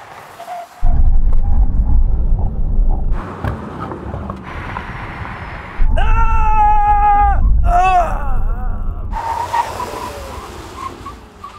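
A Mercedes-AMG GT and a Hyundai Ioniq 5 N brake hard from 100 mph, with loud road and wind roar and a few seconds of rising, wavering tire squeal midway before the noise drops off.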